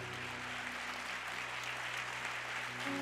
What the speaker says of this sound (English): Let's just keep clapping for them.